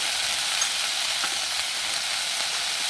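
Sweet corn kernels fry in hot oil in a pan for masala corn chaat, giving a loud, steady, dense sizzle and crackle that continues unbroken throughout, with no voices.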